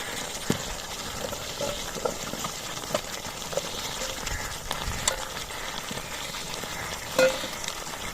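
Beef and cut potatoes fry in a pan with a steady, moderate sizzle and bubbling, punctuated by occasional light stirring knocks and one brief clank, heard close with no talking.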